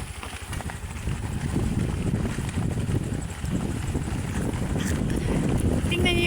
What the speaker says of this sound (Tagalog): magbibideo lang ako habang nag-aandar ang motor